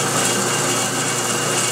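A drill cuts bolt holes through the breech plug area of a gun, making a steady, high-pitched grinding whine that holds at a constant loudness throughout, close by and with no voices.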